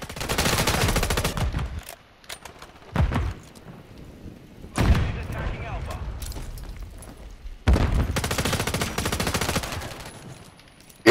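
Gunfire from Call of Duty MW3 ranked multiplayer comes in several loud, dense automatic bursts separated by short quieter gaps, with occasional thumps between the volleys.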